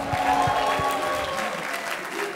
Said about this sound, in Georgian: აპლოდისმენტები სოფოს!